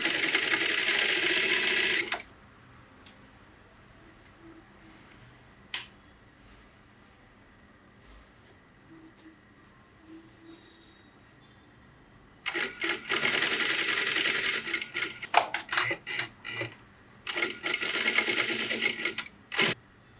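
An electric sewing machine stitches blouse fabric, a loud rapid mechanical chatter at the start, then a long quiet pause with faint handling, then several more close bursts of stitching of varying length.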